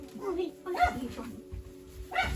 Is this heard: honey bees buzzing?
no